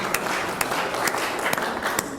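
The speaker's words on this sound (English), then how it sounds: "Come on, clap." Audience applause at an economic outlook talk, a short patter of scattered hand claps with a few sharper individual claps standing out, fairly close and filling the whole moment.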